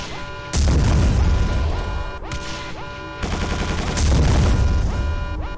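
Explosions in the 2005 first-person shooter Quake 4 go off in loud, heavy booming bursts, two big blasts a couple of seconds apart with crackling debris between them.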